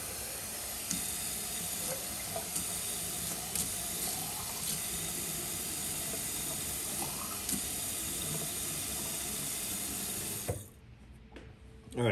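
Warm water runs from a tap into a mosquito eliminator bottle, a steady hissing rush with faint clinks and knocks, then the flow stops abruptly and the room goes quiet.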